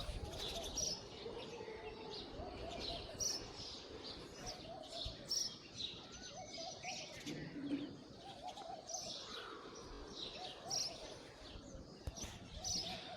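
Sparrows chirp in a village in short, sharp tweets repeated every second or two, fairly faint against a soft outdoor background, with an occasional low dove coo.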